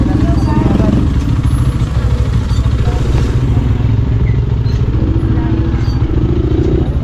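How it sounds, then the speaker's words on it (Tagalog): A motorcycle engine runs close by in a steady, rapid idling throb, with rattling clatter over the low rumble for several seconds and no pause. "Yung aming motor."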